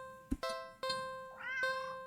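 A black cat in a video game gives a pair of clear, drawn-out meows, the second rising and falling, alongside a steady electronic tone and a few short clicks.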